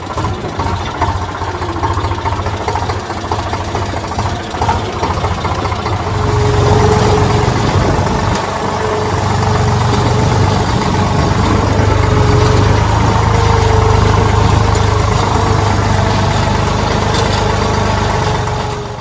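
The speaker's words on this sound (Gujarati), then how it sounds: "હાલો તો હવે ટ્રેક્ટર લઈએ ને આપણે હવે નીકળી જઈએ" A tractor engine idles steadily and close by for the whole stretch, a low rumbling drone that swells slightly louder partway through and holds there, with no talk over it.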